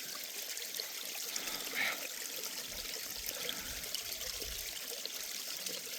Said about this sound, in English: It's coming right out the side of the mountain. A little natural spring right there.